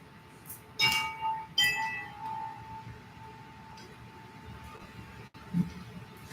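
Cosmic chimes struck twice near the start, each bright metallic ring sustaining and fading, with softer tones and a low rumble continuing after, then a faint later strike.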